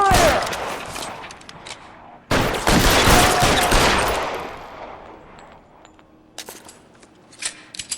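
Bursts of covering gunfire in the L.A. Noire video game, a dense volley over the first two seconds and a louder sustained barrage from about 2.3 seconds that fades, then scattered sharp shots near the end.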